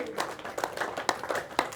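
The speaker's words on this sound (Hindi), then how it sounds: "दोनों हाथ उठाकर हल्का तालियां एक साथ, बहुत बढ़िया, रिदमिकली रिदमिकली" An outdoor yoga group in Jawahar Park, Aligarh, claps together in a steady rhythm, with light, even claps about twice a second and a voice talking over them.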